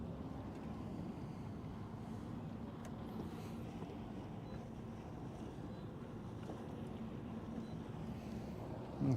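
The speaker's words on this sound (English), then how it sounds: "I'm going to let the wind blow us in this direction." Steady wind buffets a fishing boat on Lake Guntersville, a continuous low rushing rumble of gusts and water movement with no talking.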